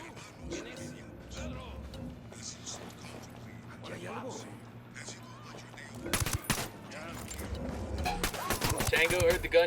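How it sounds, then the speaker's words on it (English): Video game gunfire breaks out in loud, rapid bursts and single shots after a quieter stretch, with voices talking over the action. "Tango heard the gunshot."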